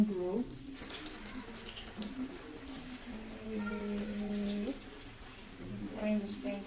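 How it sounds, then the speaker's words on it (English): A spring roll fries in a pan, a soft continuous sizzle and crackle heard under a person talking nearby. "Frying the spring roll."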